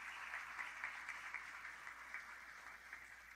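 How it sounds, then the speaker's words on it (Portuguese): Congregation applauding at a church cell-vision conference, a faint, steady wash of many hands clapping at a distance, continuous and even for the whole stretch with no voices standing out. "Pode ser aplaudir mais forte."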